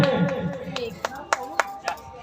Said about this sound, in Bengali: জোরে হাতের তালে।